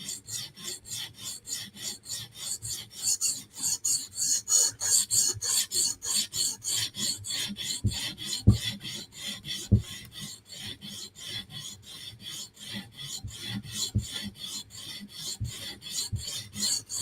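A knife blade is drawn repeatedly across a stone on a TSProf Kadet guided sharpener, giving a quiet, fast, even rasping rhythm of short strokes with occasional soft knocks, close and without voices.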